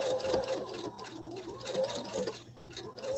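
A sewing machine runs continuously while free-motion quilting fabric under the needle, a steady fast mechanical whir and patter close up with slight fluctuations.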